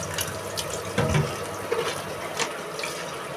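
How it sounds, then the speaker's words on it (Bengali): Plates being washed under a running kitchen tap, a soft, steady stream of water with faint clinks and splashes as dishes are handled, fairly quiet and close. "প্লেটগুলো ধুয়ে নেই।"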